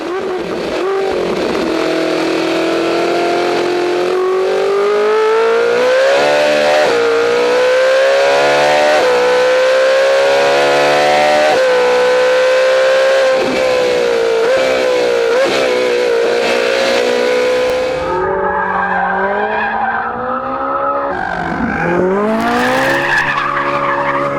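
A Ferrari 458 Italia engine revs hard on the move, its loud, continuous note climbing and falling through the gears with sharp surges near the end, no voices over it.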